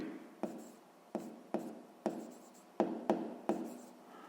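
Pen strokes on paper, handwriting during a sixth-grade maths exercise: a series of about eight short scratchy bursts, each starting sharply and fading, close and quiet with no talking.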